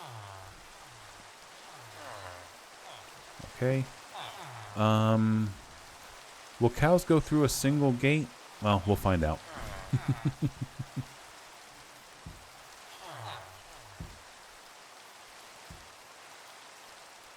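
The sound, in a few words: rain in the video game Minecraft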